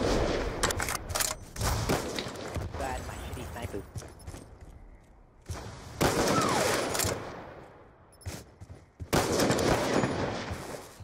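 Video game gunfire and explosions in a gun game match with a bazooka: loud, rapid bursts and blasts in clusters with brief gaps, with excited voices talking over much of the action.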